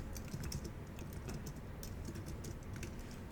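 Keys clatter on a computer keyboard in quick, irregular bursts, close and fairly quiet, with no voices.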